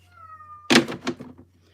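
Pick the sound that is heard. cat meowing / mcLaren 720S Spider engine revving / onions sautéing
cat meowing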